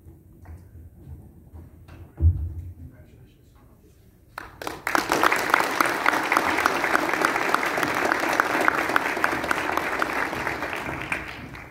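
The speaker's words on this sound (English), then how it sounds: "now we'll just give one round of applause for our new council." Attendees at an inaugural council meeting give a full round of applause that swells in after several quiet seconds with a few small thumps, then stays loud and even until the end.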